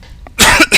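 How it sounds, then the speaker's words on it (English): Two loud, close coughs in quick succession from a person, the second shorter, following a short quiet pause. "Sorry if that's a bit loud, the coughing."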